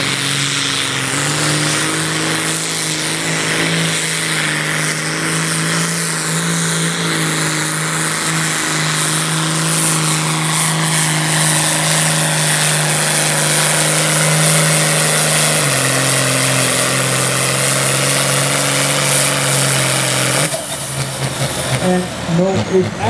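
A 3.6-ton Prostock pulling tractor, slimmed to 3600 kg, roars down the track at the 2012 Zelhem tractor pull, its loud engine droning steadily, dropping pitch once midway, then breaking up near the end, with an announcer talking over it.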